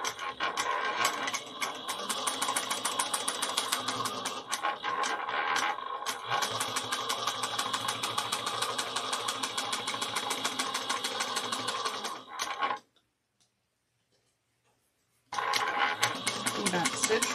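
Sewing machine running almost continuously as it topstitches a quilted shoulder bag, a steady close mechanical whir that pauses briefly for a few seconds near the end, then resumes.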